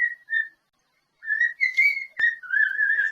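A person whistles a tune in short, high, clear phrases with a pause in the middle, close to the mic, with one sharp click partway through.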